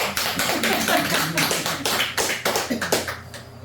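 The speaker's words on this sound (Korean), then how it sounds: "맞으면 박수 좀 쳐봐요." A small group claps in response to a Buddhist dharma talk, sharp hand taps in a quick irregular patter that starts dense and thins out toward the end, with no talking over it.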